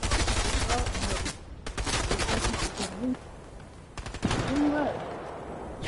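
Rapid automatic gunfire aimed at the player in a PS4 video game, dense rattling bursts with brief gaps, loud and close, while a person talks over it.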